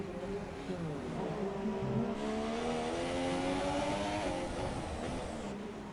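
F1 car from F1 2017 on a qualifying lap at Monaco, its engine note climbing steadily and rising in pitch as it accelerates, then holding high near the end; a single car heard up close and loud.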